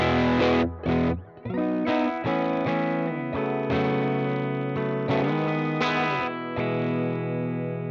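Electric guitar through a Fender Tweed '55 5E3 Deluxe amp model with tone turned down, dark, warm, muffled, playing sustained chords and notes with slight grit, loud and close, no voices.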